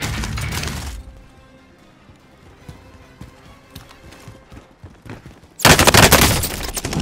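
Gunfire in a battle royale video game, with loud bursts of shots at the start and end framing a quieter stretch of scattered clicks and distant shots.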